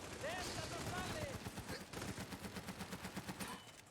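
Suppressing gunfire in Army of Two: The Devil's Cartel, a loud rapid automatic burst of evenly spaced shots through the second half, with earlier gameplay noise and a voice talking over it.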